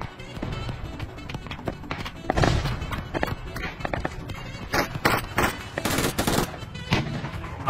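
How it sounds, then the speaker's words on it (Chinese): Mortars fire in PUBG Mobile during a beach assault, sounding as rapid thumping bursts and explosions mixed with dense gunfire and game effects, loud and continuous throughout. "我们看这边迫击炮正在开火啊"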